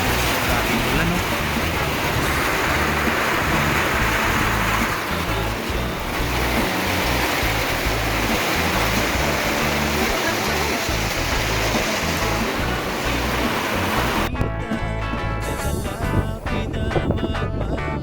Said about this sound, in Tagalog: Laking ulan, no?